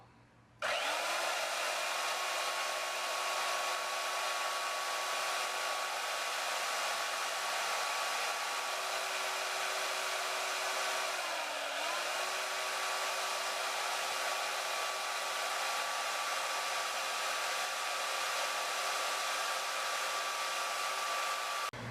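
A Harbor Freight band saw switches on and runs steadily for about twenty seconds, a loud, even motor whine with a constant blade hum that dips briefly midway and then recovers, with no talking.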